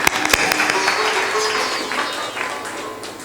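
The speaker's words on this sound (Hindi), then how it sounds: "ताली बजा।" A satsang audience claps together in a dense, sustained burst of applause that starts strong and slowly tapers off, with no talking over it.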